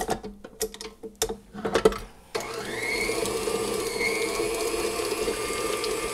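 A stand mixer with a paddle attachment starts creaming cream cheese after a few soft clinks and taps, then settles into a steady motor whir with a faint rhythmic churn.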